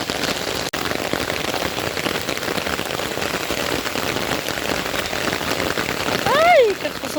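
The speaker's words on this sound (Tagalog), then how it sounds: "Kakasog sa ulan." Heavy rain falls steadily on a farm near Butuan City, a dense unbroken hiss with an even level throughout and a brief whistle-like sound near the end.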